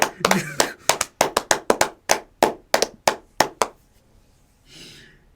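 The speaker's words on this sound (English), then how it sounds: "Clap harder." Hand clapping, about fourteen sharp claps in a steady, fairly quick rhythm, loud and close, then a pause and a faint breathy sound near the end.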